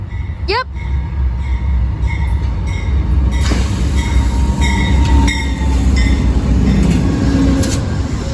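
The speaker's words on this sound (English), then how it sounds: "The train looks long today." Amtrak Coast Starlight passenger train hauled by a GE Genesis P42DC locomotive, heard as a loud continuous rumble with a sharp horn or squeal burst early, then steady rolling and ringing tones; voices speak nearby.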